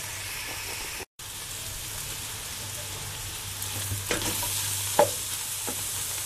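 Chicken browning in a hot pan for pancit bihon gives off a steady close sizzle, with a few sharper spatters and stirring scrapes toward the end.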